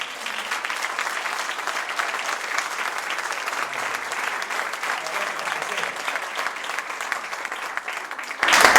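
A crowd at a launch event in Uruguay applauds continuously, a steady wash of many hands clapping that swells louder in the final moment.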